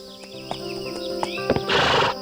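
A horse whinnies in a clear rising neigh, then hooves clatter in a brief burst, a close, clean sound effect in a children's moral story.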